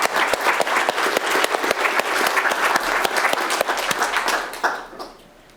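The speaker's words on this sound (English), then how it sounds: "Let's give them a round of applause also." Audience at the PGConf.dev 2026 welcome session on a university campus applauds the conference sponsors, a loud, steady round of clapping that fades out near the end.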